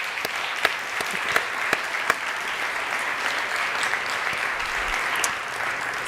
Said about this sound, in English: Can we give another round of applause to all of the awardees?